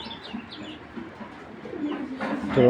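Soft, low racing pigeon coos repeat through a murmur of background noise at a pigeon seller's, growing a little louder toward the end.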